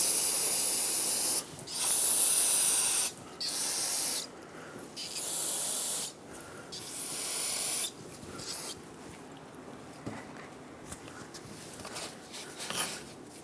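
Brake parts cleaner is sprayed onto the tie rod threads of a 2008–2010 Ford F250 Super Duty, several loud close hissing bursts of a few seconds each that grow shorter and fainter, with light clicks between them.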